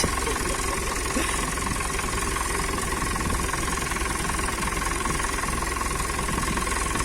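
Tractor engine running steadily on a muddy farm track, a continuous close mechanical rumble with knocking texture and no talk.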